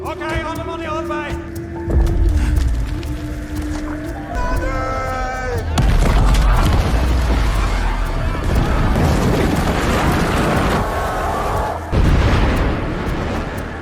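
Explosives blast apart a rocky mountain, a heavy rumbling roar with deep booms that swell around two, six and twelve seconds, following earlier tonal bleating-like sounds.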